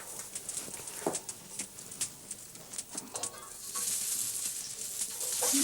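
Pork and beef sausages sizzle in a hot frying pan, a faint crackle with scattered pops and clicks of utensils that swells into a broader hiss toward the end.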